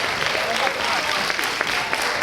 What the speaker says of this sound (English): Whoa, a standing ovation